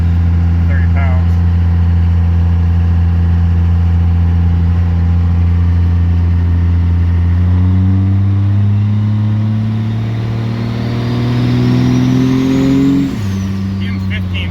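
A Cummins diesel truck engine fitted with 5x.022 nozzles drones loudly from inside the cab, holding a steady pitch, then climbing under acceleration before dropping sharply at a shift.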